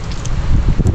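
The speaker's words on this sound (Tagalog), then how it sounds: "Grabe yung mga karabas ng hangin" Strong wind at sea roars steadily into the microphone, a loud, close buffeting rumble with no voices.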